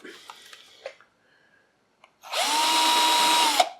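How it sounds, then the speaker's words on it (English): A power drill whirs steadily for about a second and a half, drilling into clay, after a few quiet taps and clicks, loud and close, ending with a brief rev. "we're just going to turn around and drill straight into the clay"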